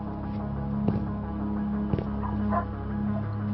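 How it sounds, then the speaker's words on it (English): A dog gives a couple of short, muffled barks in the background of online game audio, each bark brief and isolated over a steady mechanical hum. "I'm assuming that was a dog"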